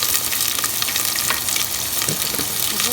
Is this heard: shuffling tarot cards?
no